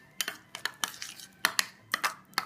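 Minced garlic being stirred into a sauce in a bowl with a utensil, a series of light clinks and scrapes against the dish in an uneven rhythm, close and fairly quiet, no talking.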